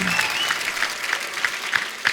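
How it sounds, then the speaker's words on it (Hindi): Studio audience applause on a Hindi comedy talk show, steady and full throughout, with a rhythmic beat of stronger claps pulsing through it. "जोरदार तालियां एक बार आयुष्मान खुराना के लिए।"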